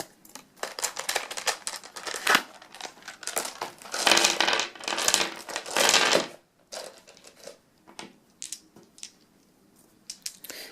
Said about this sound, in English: Let me just grab some dice here.